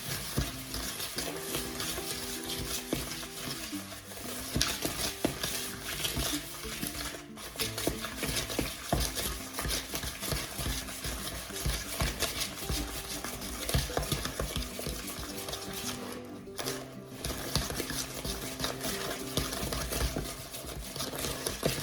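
Egg yolk and sugar are stirred together with a spatula in a bowl, giving a continuous wet, scraping, patter-like stirring sound throughout, fairly quiet with brief pauses, with no voices.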